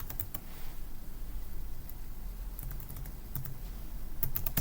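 Typing on a computer keyboard while entering a password into a chat bot program, with scattered sharp key clicks in quick irregular bursts over a steady low background hum, no talking.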